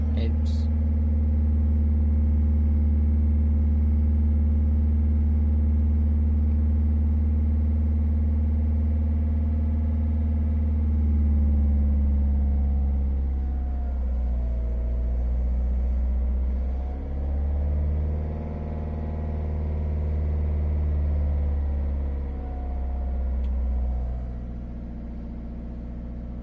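Citroen C4 Grand Picasso 1.6 HDI turbo diesel idling close by, a steady low rumble that dips and swells a few times midway as the revs shift, with no voices.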